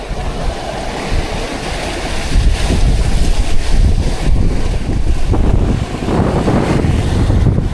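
Strong wind roars across the microphone aboard a tuna fishing boat out on the Pacific, a loud, steady rushing with gusts and waves, no voices.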